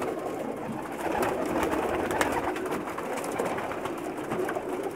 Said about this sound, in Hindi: बहुत ही नायाब किस्म के कबूतर हैं